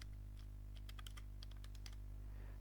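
Rapid clicking of computer keyboard keys as text is typed into Microsoft Word, soft and close over a steady low electrical hum, with no one speaking.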